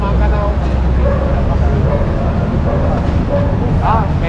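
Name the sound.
dog barking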